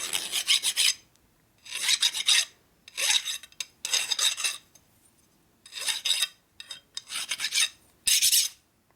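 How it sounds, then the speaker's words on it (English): A metal part from a 1972 Harley-Davidson Sportster 1000cc Ironhead rebuild being deburred with a file, about seven loud close rasping strokes in bursts separated by short pauses, no talk. "And to come in a little bit, and we deburr it."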